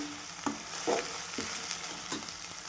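Onion frying in a pan until golden brown, a steady low sizzle with a few scraping stir strokes of a spoon, close and fairly quiet, no voices.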